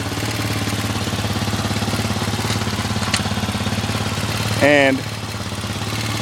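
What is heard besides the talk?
ATV 60 engine running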